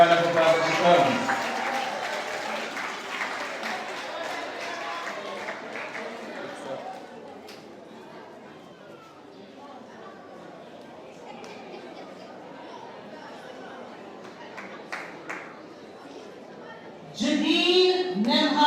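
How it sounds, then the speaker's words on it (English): At a primary and infant school leaving exercise, an audience applauds a graduating pupil, with clapping loudest at the start, thinning into scattered claps and murmuring, then rising again near the end alongside talk. "Give her a round of applause as she comes."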